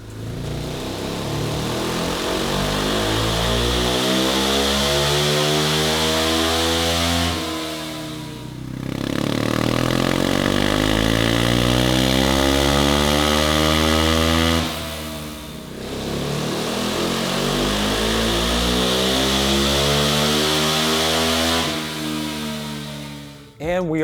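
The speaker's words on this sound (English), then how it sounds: "Now we're gonna take it to the dyno, do a bunch of runs" A Honda CRF300L motorcycle with a Yoshimura RS-4 exhaust runs on a dyno, its engine revving up in three long sweeping pulls. Each pull climbs in pitch and loudness, then drops off briefly before the next run begins.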